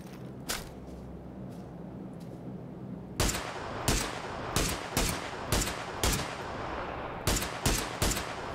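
Gunshots in PUBG: a lone crack, then a string of sharp single shots spaced about half a second to a second apart, fairly distant and fairly quiet, with no talk over them.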